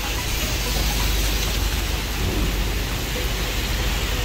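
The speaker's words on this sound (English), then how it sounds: "I've been in the rain because it's raining more" Heavy Florida rain pours down as a steady, dense broadband hiss with no pauses, loud and close throughout, with faint low rumbles underneath and no voices.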